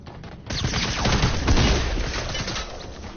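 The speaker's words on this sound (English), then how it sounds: "someone's shooting over here" Fortnite gunfire, a loud, close burst of rapid shots that begins half a second in and keeps going steadily for the rest of the moment.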